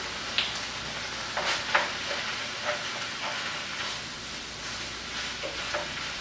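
Empanada filling being stirred in a frying pan: a steady low sizzle with repeated scraping strokes of the spoon across the pan, at moderate level with no talking.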